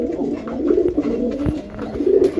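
Deshi pigeons, a male and a female gola pigeon of chocolate colour, cooing in soft repeated throaty phrases close by, with a few light knocks and rustles between the coos and no talk.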